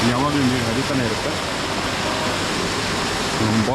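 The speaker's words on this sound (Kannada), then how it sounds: "ಅಲ್ಲಿದೆ ನೋಡಿ ನೀರು ಯಾವಾಗಲೂ ಹರಿತಾ ಇರುತ್ತೆ" Water pours steadily at Bhagsu Nag waterfall near the temple in Himachal, a continuous broad rushing wash with someone talking over it at the start and end.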